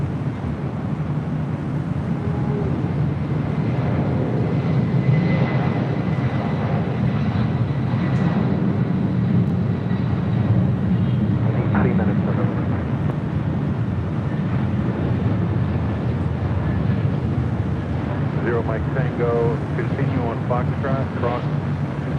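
An airliner rolling down runway 25 right for takeoff at LAX, a steady broad engine roar with wind buffeting that holds throughout, while a voice talks faintly over it.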